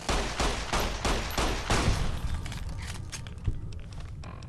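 Automated turret in Fallout: New Vegas firing a rapid stream of loud, close gunshots in steady bursts for the first couple of seconds, then thinning into scattered, fainter shots and rattles.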